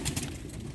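A brief, low coo from a Muradiye Dönek pigeon rumbles up close, soft and throaty, with a faint rustle behind it.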